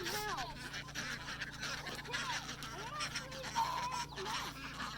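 Ducks and other farm fowl calling and honking outdoors on a farm, a scatter of short quacks and honks over steady background noise, with occasional voices nearby.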